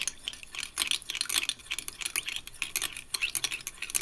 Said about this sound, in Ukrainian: перемішати гарно